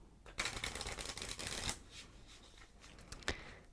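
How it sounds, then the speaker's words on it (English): A deck of playing cards riffle-shuffled up close, with a dense crisp flutter of card edges lasting over a second, then softer handling and a final sharp snap, no voices. "And I did my riffle shuffle."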